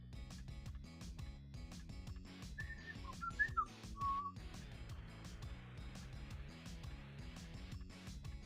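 A synthetic MIDI whistle plays a short, bright melody of sustained and bending notes over a pulsing, rhythmic song backing, sitting clearly on top of the mix.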